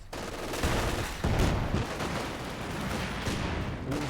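Dense battlefield gunfire and an incendiary grenade fill a strategy game fight, with continuous overlapping rifle and machine-gun bursts and explosive thumps, loud and close, with no voices.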